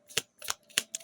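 Playing cards being shuffled and drawn one at a time, several quick crisp riffles and snaps close up, with no talking.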